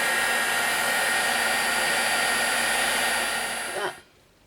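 Heat tool blowing hot air over embossing powder on a stamped birthday card, a steady loud whooshing hum that cuts off abruptly near the end.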